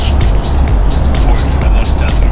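An Infiniti FX50 engine roars loudly and steadily at about 150 km/h, with rushing wind noise, close and continuous.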